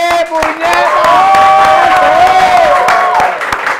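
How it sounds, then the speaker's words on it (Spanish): Packed TV studio audience clapping and cheering as a singer is welcomed, loud crowd noise with sharp claps and voices, while a tonal, sung or melodic voice rises and falls over it. "señora y señor un fuerte aplauso porque este estudio está lleno"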